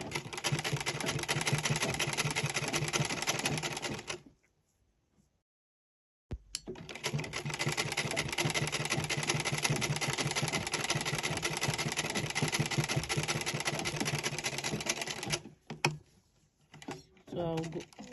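A sewing machine runs steadily while top stitching hijab fabric, a close, continuous motor whir with rapid needle ticking that stops for about two seconds, resumes, and ends in a few short bursts.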